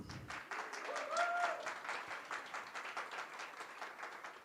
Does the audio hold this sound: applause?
yes